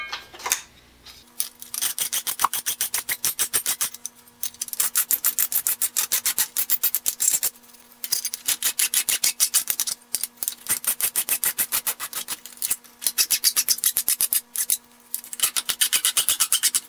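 Rapid rhythmic rasping of a hand file across metal soft jaws for a large vise, in bursts of quick strokes separated by short pauses, close and fairly loud, with no talking.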